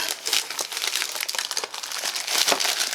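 A modeller's guillotine slicing through plastic gives a close, dense run of crisp crinkling and crunching snaps, with short sharp cuts repeating over a steady rustling bed.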